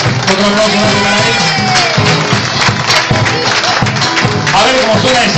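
A live concert audience applauds a percussionist, steady loud clapping and crowd noise filling the room throughout.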